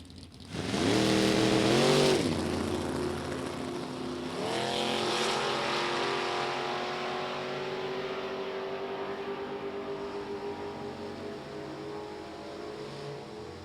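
Drag racing cars, a 1961 Ford Falcon and a 1991 Mustang, at an NHRA event at Summit Motorsports Park, roar loudly off the line with a rising rev, then surge again and hold a long, steady engine drone that slowly fades.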